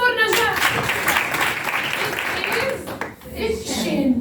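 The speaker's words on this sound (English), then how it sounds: "Clap for Najah" Eleventh-grade students in a classroom clap for a classmate, a busy, fairly close burst of many hands that runs for a few seconds under a teacher's voice before fading, then talk resumes.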